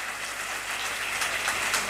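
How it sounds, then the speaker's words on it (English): A high school conference audience applauds, a dense even patter of clapping that holds steady and swells slightly toward the end, with no voices over it. "Put your hands together for him"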